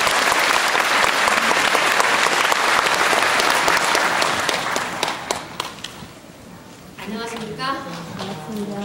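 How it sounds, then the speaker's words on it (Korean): Audience applause at a Won Buddhist New Year greeting ceremony, loud sustained clapping from a large crowd that fades out midway, followed by a person beginning to speak. "박수 부탁드립니다"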